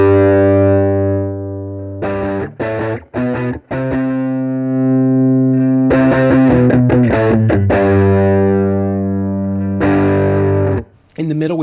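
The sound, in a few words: electric guitar through a boosted effects pedal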